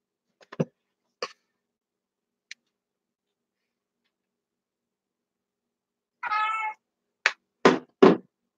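A cat gives a few short, faint sounds among quiet taps, then a clear nearby meow followed by three more brief meows in quick succession.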